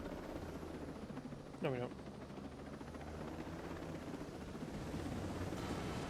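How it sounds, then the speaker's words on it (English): A helicopter in the video game Ghost Recon Breakpoint keeps up a steady, low rotor drone throughout, with a brief voice cutting in partway through. "You really left this chopper in the best condition."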